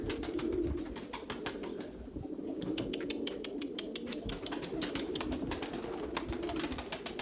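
Several pigeons burst from a coop and take off on their own, giving a continuous flurry of wing claps and flapping with coos in the background, close and steady throughout without any talk.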